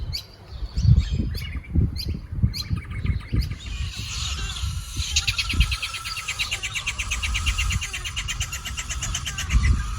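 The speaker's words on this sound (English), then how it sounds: "that little routine is the mother galah feeding the baby" Loud, harsh squawking and rapid repetitive chirps from galahs close by, with a fast rhythmic begging call running through the second half as a mother feeds her chick.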